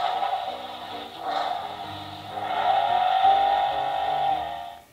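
A toy police car plays its electronic sound, a steady run of synthetic tones and a wavering siren-like pitch at moderate, close volume, cutting off abruptly at the end.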